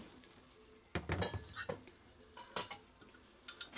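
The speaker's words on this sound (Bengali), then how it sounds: "জলটা দেওয়ার পরে আবারও একটু নাড়াচাড়া করে নিচ্ছি" A spoon stirs chicken and vegetable soup in a pot after about one and a half litres of water is added, giving a few close clinks and scraping strokes against the metal, with quiet pauses between them.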